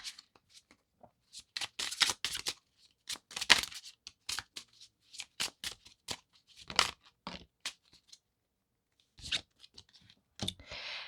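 Tarot cards shuffled by hand in repeated quick riffling bursts separated by short pauses, close and crisp with no talking.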